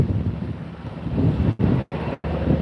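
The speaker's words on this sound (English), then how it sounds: "hear that wind? That's all rotor wash." Strong, steady rotor wash from a helicopter buffets the microphone with a rough, continuous roar, broken by a couple of brief dropouts; no voices are heard.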